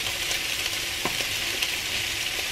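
Ground meat and garlic frying in a pan with steady sizzling, while a spoon stirs and scrapes through it, producing a few soft clicks; close and continuous with no voices.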